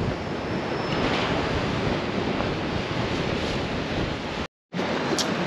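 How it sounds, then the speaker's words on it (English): Strong wind buffets the microphone over steady crashing surf on a protected fishing beach, a loud continuous roar that briefly cuts out near the end. "Now the wind has picked up again."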